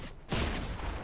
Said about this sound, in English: Dude, I don't remember how to aim my shotgun.